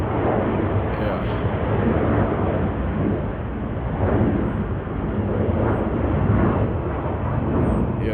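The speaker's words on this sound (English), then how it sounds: "The plane it took off. That's what you're hearing." An airplane takes off close by an airport, a loud sustained low roar that swells and eases with a broad rumbling wash throughout.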